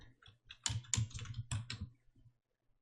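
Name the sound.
typing text on a computer keyboard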